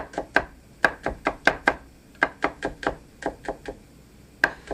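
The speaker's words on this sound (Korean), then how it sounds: "편썬 마늘은 다시 채 썰고 다집니다." Knife chopping sliced garlic on a cutting board for a tomato seafood spaghetti, a quick run of sharp, close taps in uneven bursts with short pauses, heard alone without talking.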